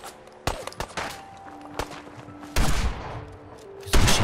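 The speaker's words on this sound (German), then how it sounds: "Wieso beschießen die sich?" Gunfire between characters in the video game Fallout 4, with sharp single shots scattered across the first seconds, then heavier bursts of firing near the end, moderately loud over a quiet background.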